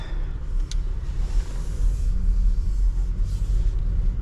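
Inside an Audi Q5 on the move, a low, steady road and engine rumble fills the cabin at moderate level, swelling gently, with a brief faint click early on.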